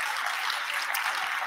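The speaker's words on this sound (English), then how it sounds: "Somebody give God a hand clap of praise." A church congregation claps hands together in praise, a dense, even burst of many hands filling the room for a brief moment, with no voices standing out.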